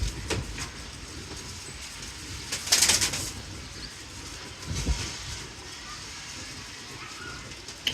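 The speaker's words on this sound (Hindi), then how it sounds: "कबूतर है ये" Pigeons at a home loft setup, with a brief flurry of wings near the middle over steady outdoor background noise and faint bird sounds, moderately close.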